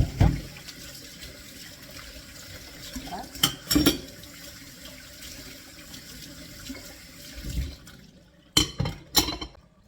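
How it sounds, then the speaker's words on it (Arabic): Dishes being washed under running water in a home kitchen: a steady tap stream with occasional clinks and knocks of utensils, and a few sharp clatters near the end. "ايوا دابا غادي نغسل المعينات"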